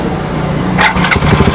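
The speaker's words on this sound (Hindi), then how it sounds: "मैं बाइक को स्टार्ट करता हूँ" A Hero Splendor Plus BS6 motorcycle with a cold engine is started, a brief mechanical crank and catch heard up close, cut short after a moment.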